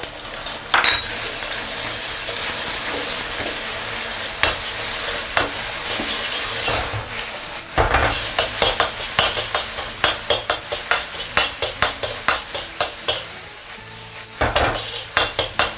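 Beaten eggs hitting hot oil in a wok and being stirred, a loud sizzle with repeated sharp scrapes and clinks of the spatula against the metal pan, growing busier toward the end.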